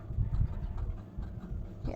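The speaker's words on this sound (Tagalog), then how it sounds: "hinihingal pa din si Papi guys kasi busog po siya" A dog breathes in quick, soft, rapid pants after eating, heard close and quiet indoors inside a shop, steady throughout with no talking.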